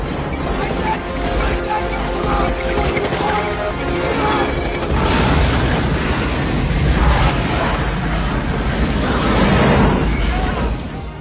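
Movie-scene explosion from Starship Troopers as a soldier blows up the bugs: a dense, sustained roar of blasts and crashing debris, loud and continuous, mixed with a score and other effects.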